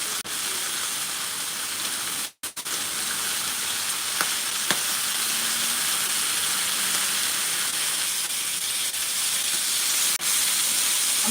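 Bacon fries in a pan with a continuous bright sizzle and hiss, close and steady, broken only by one brief moment of near silence.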